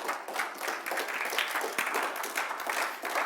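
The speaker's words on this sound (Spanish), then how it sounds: "Dele un aplauso al Señor" Congregation applauding together during a Sunday church service, a steady wash of many hands clapping that holds evenly through the whole stretch without a voice on top.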